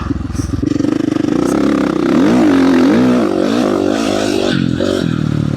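A motorcycle ridden hard through a rutted corner, its engine loud and close, revving up and down in rapid pitch swings with clattering and scraping under the exhaust note.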